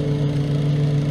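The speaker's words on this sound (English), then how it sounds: "I think this is going to be my new go-to blower." A Milwaukee M18 Fuel battery leaf blower runs at a steady pitch, a continuous close whirring hum with no pauses over a brief moment.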